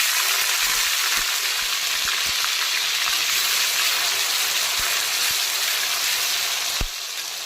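Onion paste frying in hot oil for a restaurant-style chicken dish: a steady, dense sizzle holds throughout, with a few soft clicks, then fades slightly near the end.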